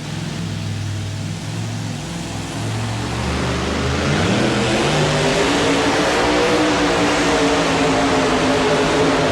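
A two-wheel-drive pulling truck engine, an Ohio-based machine at a 1992 NFMS truck pull in Louisville, KY, idles low on the starting line, then revs up and holds a loud, roaring drone.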